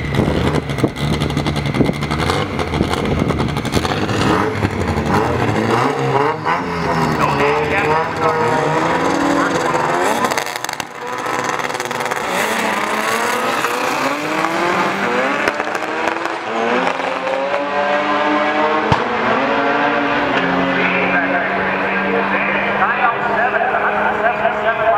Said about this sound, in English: one of the Speedfactory speed cars in the race